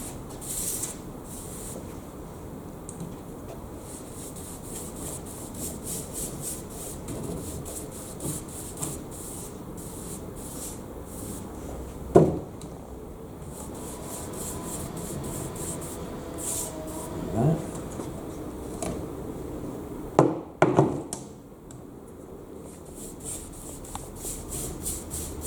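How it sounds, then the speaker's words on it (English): Paintbrush pushed hard to work primer into bare new wood timber, a soft continuous rubbing and swishing across the surface with a few sharper knocks near the end, steady and close with no talk. "press it on, brush it out evenly on the surface. I'm pushing quite hard with the brush to try and force it down into the timber underneath"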